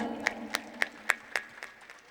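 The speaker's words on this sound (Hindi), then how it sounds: "इनके लिए जोरदार तालियां।" Sparse claps in a steady, evenly spaced rhythm from an audience at a devotional gathering celebrating Krishna's birth. They are quiet and somewhat distant, with no talk over them.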